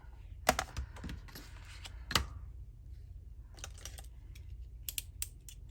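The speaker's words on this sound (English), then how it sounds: "Okay, so I'm just going to cut this little strip off in the center." A strip of paper is cut from a folio sheet, producing a few sharp, close clicks and snips separated by quiet gaps, with a faint low hum underneath.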